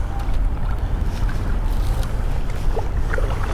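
Kayak paddling up a creek, low rumbling water and wind noise with faint splashes and drips from the paddle, steady and close, with no talking.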